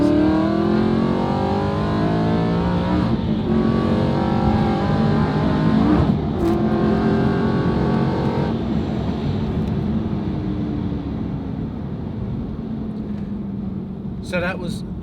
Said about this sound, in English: Now I'm going to do quite a hard tip in, and we'll notice the speed of the shift from 5 to 2.